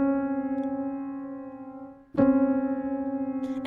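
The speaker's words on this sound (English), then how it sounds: "We have 20 against 19, which is an 88-cent half step that sounds like this." A sustained synthesized tone holds steady, then a second tone joins about two seconds in, forming a 20:19 microtonal half step of roughly 88 cents with gentle audible beating, heard alone.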